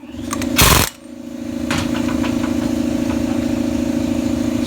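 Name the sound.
air compressor running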